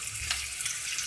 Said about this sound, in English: I'm going to speed the processing up, cooking up a little bit with just a sploosh of water